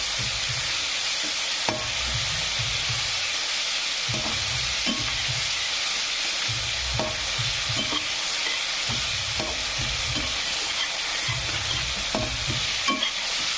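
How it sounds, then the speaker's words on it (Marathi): Tomato with ginger, coriander and garlic paste fries in a pan for a cluster-bean dish, a steady close sizzle broken by repeated scraping stirs at an uneven rhythm, no voices. "अद्रक कोथिंबीर आणि लसूण याची पेस्ट छान सर्व सामग्री अशी फ्राय होऊ द्यायची आहे आपल्याला"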